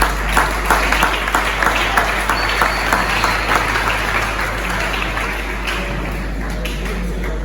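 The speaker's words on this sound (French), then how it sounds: "si vous pouvez applaudir très fort dans le monde" An audience at an academic diploma ceremony in Kinshasa claps steadily and loudly, a sustained wash of many hands over a low hum, easing slightly toward the end.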